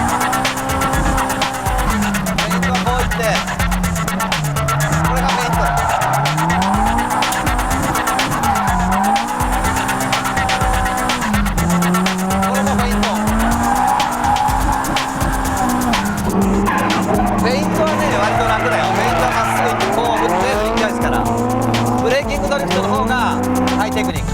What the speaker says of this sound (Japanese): he slams on the brakes, then swings the car around to shift the weight of the car to the rear